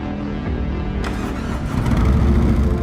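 Harley-Davidson Road King Special with a Milwaukee 8 engine starts up, a loud cranking rumble that catches and swells into a deep, steady idle.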